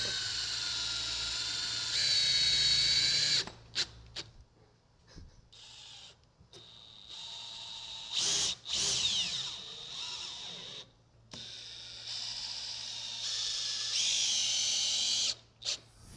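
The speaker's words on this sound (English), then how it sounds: "The next step is to screw them in." A power drill drives screws into pine shutters in bursts: several whirring runs of a few seconds each, broken by pauses and clicks, close and fairly loud, with no talk.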